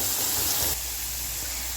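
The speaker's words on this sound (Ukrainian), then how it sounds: "Тут у мене обсмажується цибулька." Onion and garlic fry in a pan, giving a steady close sizzling hiss that drops abruptly to a quieter sizzle partway through.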